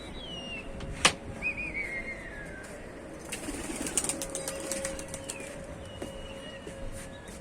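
Pigeons flap their wings in flight over Tanta, Egypt, rapid fluttering bursts passing overhead, with a sharp clap early on and faint whistling bird calls outdoors.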